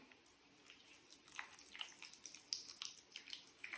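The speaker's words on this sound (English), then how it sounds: "You want to give them a small water again." A small amount of water is gently sprinkled over microgreen seeds in a soil-filled tray, giving faint, soft patters and drips scattered irregularly over a quiet background.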